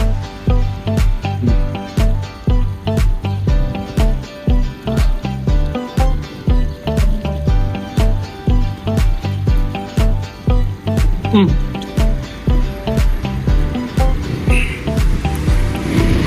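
Cold mountain water pours steadily from a public tap in Bern, Switzerland, a loud, close, continuous rush with rhythmic surges, while people talk over it.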